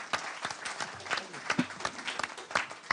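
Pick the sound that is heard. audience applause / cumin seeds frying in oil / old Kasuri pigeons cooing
audience applause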